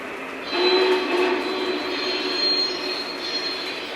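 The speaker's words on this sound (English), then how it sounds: "Let's get the train moving." A model train runs along a layout with a continuous mechanical whirring hum and a faint squeal from the wheels, steady and close, with no talk.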